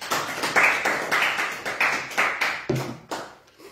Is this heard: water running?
no